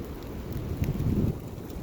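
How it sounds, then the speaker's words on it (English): Low, rumbling wind buffets the microphone outdoors in a wooded area, a steady blustery roar that swells briefly in the middle of the short stretch. "I don't know if you all can hear that wind, but it sounds like"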